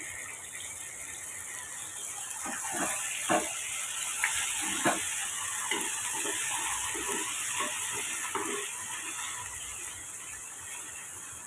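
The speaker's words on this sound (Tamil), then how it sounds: "இப்போ வந்து சேமியாவையும் சேர்த்துட்டு நம்ம கலந்து விட்டுக்கலாம்" A utensil clicks and scrapes irregularly while stirring vermicelli in a pot, with a steady bubbling hiss of boiling water continuing underneath.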